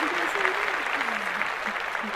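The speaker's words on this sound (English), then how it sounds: "Let's clap that up." Steady dense clapping from a small podcast group, a continuous patter of hands that runs the whole moment beneath a talking voice.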